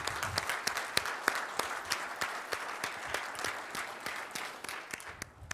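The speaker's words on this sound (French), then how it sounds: "On peut l'applaudir." Audience applause after a speech at a chamber of commerce New Year's wishes evening in the Basque Country, steady sustained clapping from a sizeable crowd, fairly loud and filling the room without a break.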